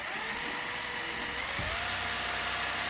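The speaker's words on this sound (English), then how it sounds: "now I've got my buffing wheel on a drill here" A handheld drill spins a buffing wheel against a bronze brazier, a steady high electric whine with a brief low grinding scuff as the wheel bites, loud and continuous.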